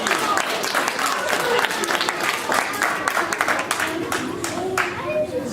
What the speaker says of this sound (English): Big round of applause for Matthew.